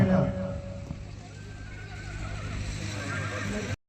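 A Marwari horse at a colt competition during the Maghi fair in Muktsar whinnies briefly near the start, then steady crowd and fair background noise continues with people talking.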